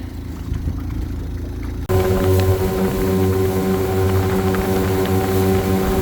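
An outboard boat motor runs steadily, quieter at first, then opening up abruptly into a louder, throbbing drone with strong tonal hum that continues to the end.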